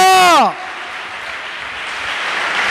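A church congregation breaks into sustained clapping during a sermon, a dense, even wash of applause that follows a brief spoken voice and carries on to the end.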